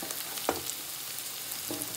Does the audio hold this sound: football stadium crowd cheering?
no